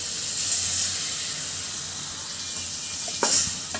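Boiled potato going into a pan of onion curry, which gives a steady close hiss and sizzle, with a brief clatter and a bump of sizzling near the end as the potato drops in.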